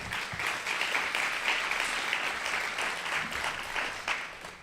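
A lecture audience gives a steady round of applause for nearly five seconds, a dense, even wash of many hands clapping with no voices over it.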